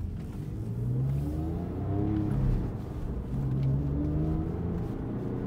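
A Porsche 911 997.1 Carrera S with a six-speed manual gearbox pulls along in second gear at low speed, its engine note rising and falling steadily from inside the cabin, with no talking.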